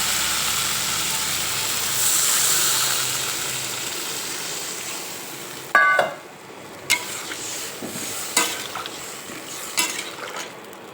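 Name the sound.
broth poured into sizzling fried spice masala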